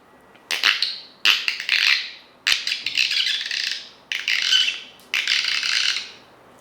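A voice imitates a sparrow chirping, producing five quick, bright twittering bursts with brief pauses between them, close and clear with no other sound.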